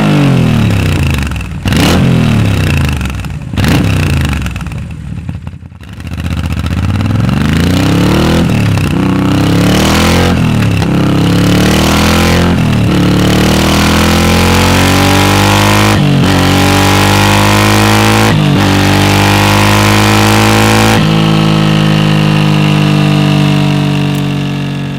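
A shaft-drive motorcycle engine revs hard and close, its note climbing and dropping through repeated blips of the throttle with a steady rumble underneath, loud and alone throughout.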